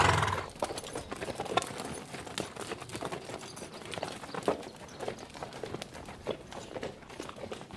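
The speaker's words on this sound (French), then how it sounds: "On est bien descendu à cheval." A horse's hooves clip-clop steadily while descending a mountain path at night, irregular steps ringing out close by over a rustling background, with a brief neigh-like sound and no speech.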